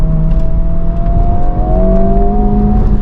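A 2024 Honda Civic Type R climbs a hill, its engine note droning and rising steadily under load, heard from inside the cabin with a constant road hum.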